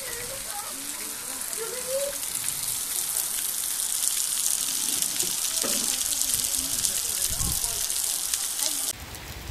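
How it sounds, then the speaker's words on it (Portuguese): Steady rain falls on a rural community in Piauí, northeastern Brazil, a dense continuous hiss of drops on surfaces running throughout, with scattered close patters and splashes and no talk. "chovendo aqui na comunidade Tanque Velho, São Brás do Piauí"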